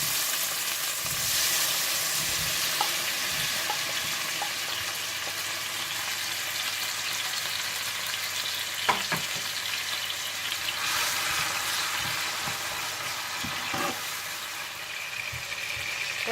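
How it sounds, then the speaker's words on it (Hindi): Tomatoes fry in hot oil in a pan, a continuous bright sizzle close by with occasional pops and stirring scrapes, steady throughout. "तेल गरम करने के बाद आप इसमें टमाटर डाल लें।"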